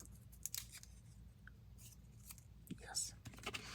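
Double-sided sticky tape being handled and snipped while assembling a sewing-themed vignette box, soft close crinkles and cuts at irregular intervals, with quiet murmured talk in between.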